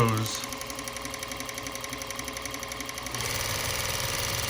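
A Juki 1541S industrial sewing machine winds a bobbin, its steady rapid mechanical whir running close and continuous, then speeding up and growing louder near the end.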